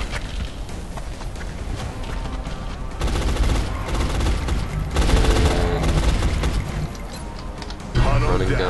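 Sustained gunfire from suppressing fire in XCOM: Enemy Unknown, a dense continuous rattle of shots that swells louder in bursts over several seconds, with faint talk mixed in.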